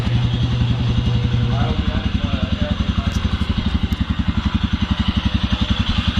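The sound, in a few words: Royal Enfield Scram 411 motorcycle engine idling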